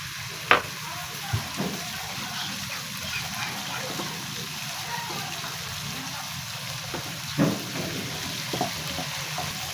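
Cumin seeds sizzle in hot oil with browned ginger and garlic for dal tadka, a steady close crackle and hiss with a few sharper pops and stirring clatters.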